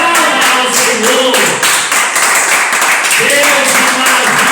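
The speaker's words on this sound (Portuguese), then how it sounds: "Aplauda ao Senhor." A church congregation claps in rhythm during a worship service, the steady claps running under a loud voice that speaks or sings throughout.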